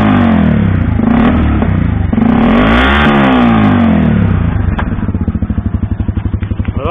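A 1987 motorcycle engine with an aftermarket exhaust revs hard and loud up close, rising and falling in pitch, then drops to a rough, pulsing idle with an open-exhaust rattle.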